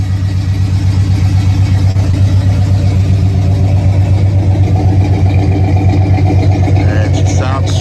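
An all-original muscle car with factory headers, ram air and the W30 package idles steadily with a low, even rumble, close and loud, with a person speaking faintly over it.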